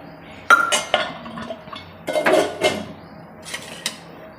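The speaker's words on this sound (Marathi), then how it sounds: "त्यासाठी मी ही लोखंडाची कढई घेतलेली आहे।" Metal clinks and clatters as a heavy iron wok is handled, with a few sharp knocks spread across a quiet kitchen background.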